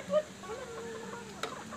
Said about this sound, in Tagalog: Huwag niyong papalapitin din niyang manok siya.